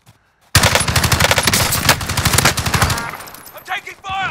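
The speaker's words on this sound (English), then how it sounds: "I'm taking fire!" Sustained rapid machine gun fire in a video game, loud and close, a dense burst of shots lasting a few seconds before tapering off into quieter game sounds.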